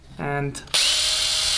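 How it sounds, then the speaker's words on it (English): A power drill bores through a freediving fin blade while it is mounted to a foot pocket: a short whine rises in pitch, pauses briefly, then a louder steady cutting grind carries on to the end, with a brief spoken word near the start. "You just drill through these two holes, try to center them as much as possible"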